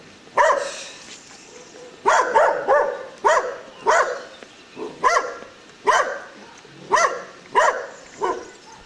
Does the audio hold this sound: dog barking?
yes